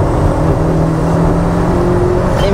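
A turbocharged 20-valve MK1 VW Caddy pulls hard in third gear on boost, its engine note loud and steady with a rising harmonic whine throughout, close to the microphone and without any talk.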